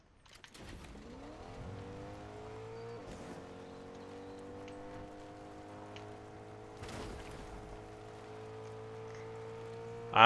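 A slow truck in a video game, its engine droning steadily with a low hum and gear-like pitch shifts for about ten seconds, faint and continuous, with a few brief knocks.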